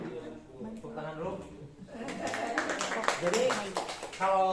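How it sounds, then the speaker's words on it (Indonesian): An audience claps at a first aid training session in a library, brief scattered applause swelling over a few seconds, with people talking and chuckling around it. "Tepuk tangan dulu."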